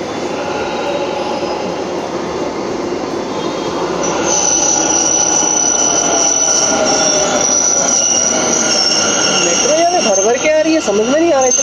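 A Namma Metro train moves through a Bangalore station with loud, sustained wheel squeal over a rumbling rail roar, close by. Voices are heard briefly near the end.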